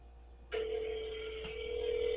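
A telephone ringing tone on a call to a Walmart store begins abruptly and holds as one steady, sustained electronic tone, heard alone over faint line hiss.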